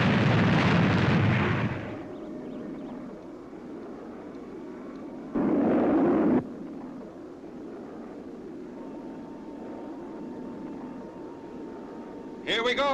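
Rocket boosters fire on the Fireball XL5 spacecraft. A loud roaring blast lasts about two seconds and settles into a lower rumble, a second burst comes near the middle, and a brief sharp blast ends it.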